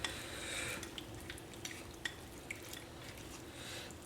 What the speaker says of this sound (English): And now we've got our shrimp and our seasoning. Just stir this up.